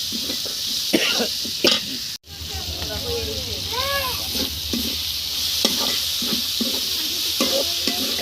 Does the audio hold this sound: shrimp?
yes